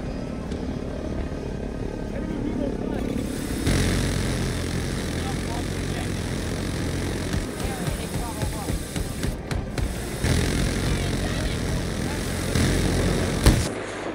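Military plane roaring overhead in the shooter Battlefield 2042, a steady loud engine drone over constant battlefield noise and gunfire, swelling near the end, with players talking over it.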